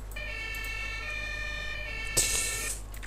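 An Austrian emergency vehicle siren in the Emergency 4 game, a steady multi-tone wail holding for about two and a half seconds before a brief burst of noise, over a low engine rumble.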